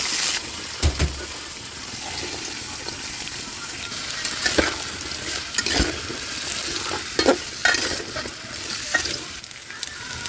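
Vegetables for bhuna khichuri sizzle loudly in hot oil, with irregular scrapes and knocks as a spoon stirs them around the pan, close and alone.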